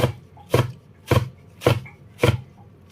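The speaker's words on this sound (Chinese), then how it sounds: "水分挤好之后，放到案板上面给它改一下刀。" A knife chops blanched, squeezed spinach on a cutting board in five crisp, evenly spaced thuds, close and clear with quiet gaps between.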